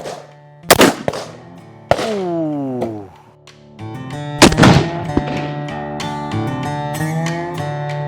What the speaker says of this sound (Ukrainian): Один постріл.